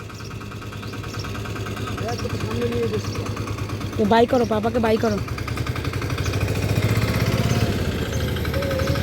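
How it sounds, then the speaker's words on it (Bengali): A toto auto-rickshaw engine idles steadily nearby in a village, a low continuous hum running under a family's talk throughout. "ওই যে টোটো চলে এসছে"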